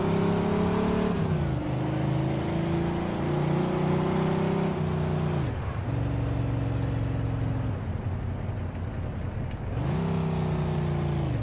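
Police pursuit of a speeding car in Mafia 2: a close engine drones and rises through several gear changes, with brief drops and surges and a faint hiss, loud and continuous with no talking.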